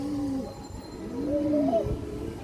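A racing pigeon of an old line coos close by in two soft, warbling phrases, the second longer and rising, alone without talk.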